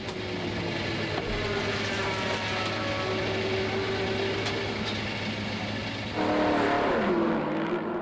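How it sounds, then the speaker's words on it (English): Race car in the pit lane at Zandvoort during a Supercar Challenge race, engine held steady on the rev limiter as it pulls out, a continuous loud drone that rises in pitch and intensity near the end. "pulling out of the pit lane. Mindful, of course, of the maximum speed in the pit lane on the rev limiter"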